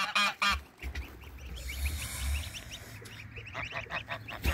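Geese honk repeatedly on a farm where turkeys are also kept. The calls come in irregular bursts over a low background rumble, fairly close, with no talk.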